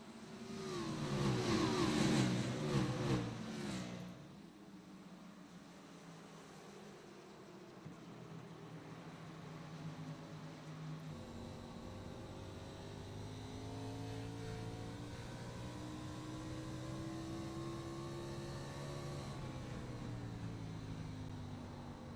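Race cars accelerate on the New Hampshire track in a racing video game: a loud, dense roar opens the clip, then several engines drone on steadily, their pitches climbing as they pick up speed.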